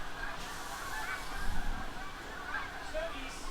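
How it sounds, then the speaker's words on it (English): Snow geese honking faintly in the distance over a farm field, scattered calls from a flock against quiet outdoor background. "I hear geese. Are they the snow geese or regular geese?"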